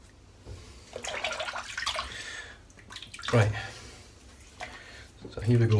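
Water splashes onto a head ahead of a shave in several wet bursts of varying loudness. Someone talks over part of it.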